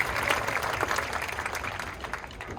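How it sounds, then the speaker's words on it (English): Crowd applause at a high school marching band tailgate, steady outdoor clapping from many people that continues throughout, moderately loud and gradually easing. "give him a round of applause"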